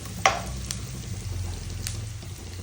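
Onions fry in a pan for tomato curry, a faint, steady low sizzle with a brief clink near the start and another light tap later.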